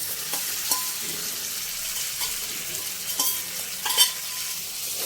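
Pointed gourd (potol) stir-frying in a pan, a steady close sizzle with light scraping strokes of the spatula and occasional metallic clinks against the pan, and no talking.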